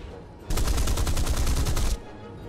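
Rapid machine gun fire in the War Thunder combat game, one loud sustained burst of closely spaced shots lasting about a second and a half, with no talk over it.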